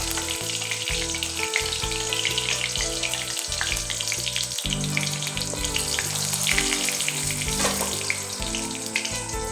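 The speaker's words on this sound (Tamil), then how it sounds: "பட்டை, லவங்கம், பிரிஞ்சி இலை இதெல்லாம் ஒன்று ஒன்றா நம்ம போட்டு பொரிக்க விடணும்." Whole spices such as cinnamon, cloves and bay leaf frying in hot oil for a chicken gravy, giving a steady, close crackling sizzle that runs through the whole stretch with no talk.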